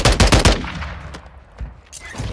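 Shotgun fire in Warzone 2: a rapid burst of loud, booming blasts in the first half second, then reverberant decay with a few scattered later shots and impacts.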